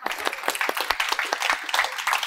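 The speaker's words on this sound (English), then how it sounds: "Give yourself applause." A group at a healing session led by Master Chunyi claps together, a brisk, dense patter of many hands, close and lively, with no talking over it.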